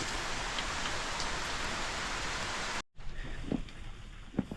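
Rain falls on a farm in a steady, dense hiss that drops off suddenly, then gives way to a quieter patter with occasional nearby drips and knocks.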